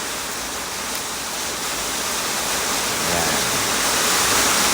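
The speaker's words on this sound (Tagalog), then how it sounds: "Napakalakas ng ulan sa labas, no?" Heavy rain falls outside, heard from inside a house as a dense, loud, continuous hiss that swells slightly toward the end.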